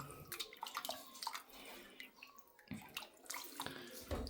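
Raw chicken is washed under running water, giving a close splashing and trickling with irregular sloshes and drips.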